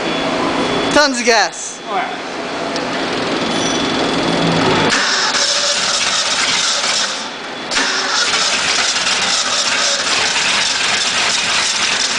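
A Ford 302 V8 cranks with a rapid whirring starter, then catches and settles into a loud, steady idle close by, with brief voices nearby.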